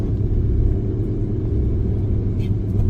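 A BMW 520d F10 with a tuned exhaust pulls away gently, giving a loud, steady, deep rumble close by with no sharp rev peaks.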